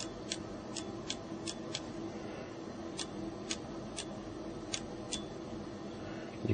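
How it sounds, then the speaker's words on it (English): The spring-loaded slide-out QWERTY keyboard of an HTC Arrive phone is worked repeatedly, giving a series of small, crisp clicks and snaps spaced irregularly over a quiet room background. "once you go all the way out, it kind of pops up on springs."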